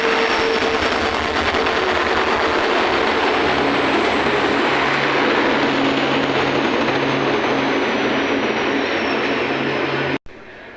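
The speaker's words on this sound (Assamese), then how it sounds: "বহু সময় অপেক্ষাৰ পিছত ট্ৰেইনখন আহি পালে" A passenger train pulls into a station with a loud, continuous rumble and rolling clatter of wheels that fills the whole stretch, then cuts off abruptly near the end.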